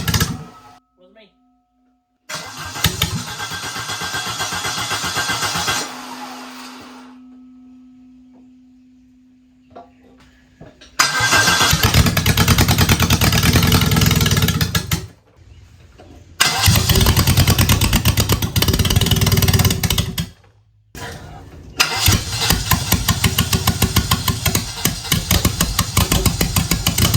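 Engine started and run on a garage floor, with loud bursts of steady running separated by short silent gaps and a quieter idling stretch.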